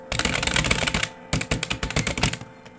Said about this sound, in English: If I type, it's gonna sound like this.